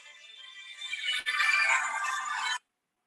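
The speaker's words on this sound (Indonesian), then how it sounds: "Bentar ya, ada telepon masuk." A phone rings with an incoming call during an accounting and taxation class, a steady bright electronic ringtone of about two and a half seconds that stops abruptly, heard alone with no talk.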